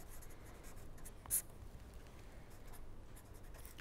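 Chalk or pen scratches quietly across a board during a lecture, continuous faint strokes with one sharper tap partway through, in a quiet room without speech.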